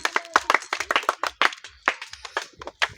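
Small crowd at a balloon-popping dart game claps briefly and unevenly, a scattered burst of close hand claps over a few seconds.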